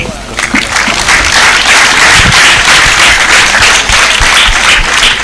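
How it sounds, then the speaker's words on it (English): Students at a college debate between teams from Maranatha and Espanya clap together in steady, dense applause that fills the room, with voices mixed in underneath the sustained clapping. "Let's ask our student to clap for the student from Espanya."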